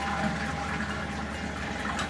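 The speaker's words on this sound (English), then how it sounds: "to flush the toilet, there's not a lever here. It's a button." A push-button toilet flushes in a UK hotel bathroom with a close, steady rush of gushing water that runs on with no voices.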